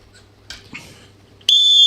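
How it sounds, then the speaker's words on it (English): A whistle blasts sharply and loud at the end of a short stretch, preceded by a couple of faint brief sounds. "That's a very, very good job using that whistle."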